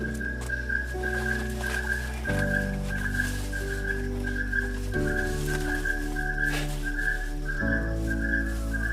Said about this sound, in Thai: เสียงนกเลย